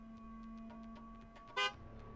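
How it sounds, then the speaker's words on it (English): A single short car horn honk in the video game Kane & Lynch 2, one brief blast rising clearly over a steady low in-game hum and background tones. "A single honk."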